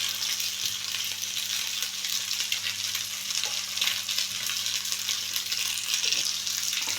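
Fish sizzling steadily on a grill, a dense, continuous crackle with a low hum underneath and no talking.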